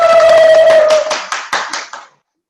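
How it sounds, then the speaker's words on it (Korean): A brief handful of claps for a speaker at an online Zoom seminar, following a held tone and tapering off quickly into silence. "큰 박수 부탁드리겠습니다"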